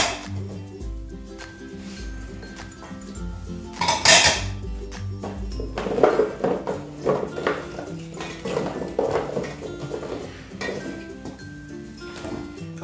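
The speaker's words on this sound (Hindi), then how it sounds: "हम मिक्स कर लेंगे अच्छी तरह से।" Vegetables for chicken shashlik being tossed and mixed in a pot, with repeated clinks and scraping knocks of a utensil against the pot in irregular bursts, close and fairly loud, with no talking.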